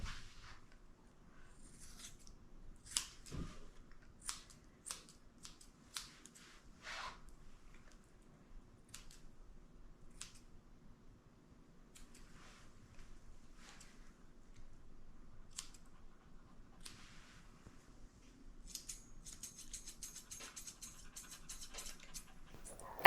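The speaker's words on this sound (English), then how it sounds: "I'm trimming up his bangs so he can see again." Scissors snip a Maltese dog's bangs in a few faint, scattered clicks, with long quiet gaps between the cuts.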